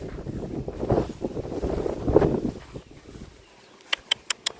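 Dry wind gusting across an outdoor cattle pen, a broad rushing buffet that rises and falls for several seconds, then drops to near calm with a few short, sharp clicks or chirps near the end.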